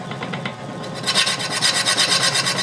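Roughing gouge cutting wood on a lathe while turning a Queen Anne side table part, giving a steady rasping, pulsing scrape that grows louder and more continuous after a softer start.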